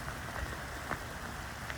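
Rain patters steadily on a garden on a grey February day, a soft continuous hiss of drops with a few slightly louder taps, fairly faint and with no voices.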